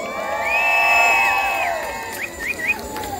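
A festival crowd at the Fiesta de la Misión in Baja California, 2022, cheers and shouts for the second couple in a contest, with sustained voices and bright whistle-like calls rising near the end.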